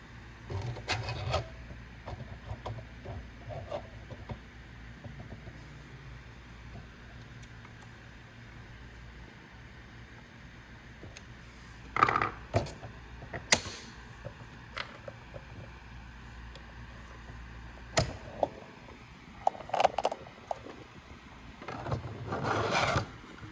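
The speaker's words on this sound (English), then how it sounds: "let's grab some 12mm screws to assemble the shaft to the gearbox" Someone hand-fastens 12mm screws to join a shaft to a Polyformer gearbox, making intermittent short scraping and ratcheting bursts separated by quiet stretches.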